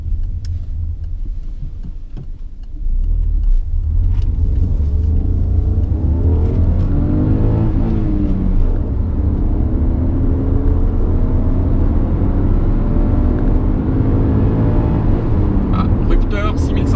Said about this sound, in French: Rupteur 6500 tours. Effectivement, une petite protection, mais ça monte assez bien dans les tours.